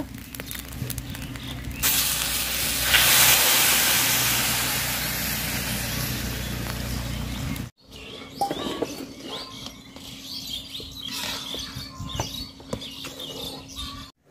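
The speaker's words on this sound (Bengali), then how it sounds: "তো ভাত বলক আসা গেছে" A steady, bubbling hiss of a pot of broken rice boiling vigorously, close by, then it cuts off and quieter clinks and soft kitchen noises follow.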